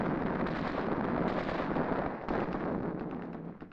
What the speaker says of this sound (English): Our 2-inch mortar lays smoke to blind the council house defenders.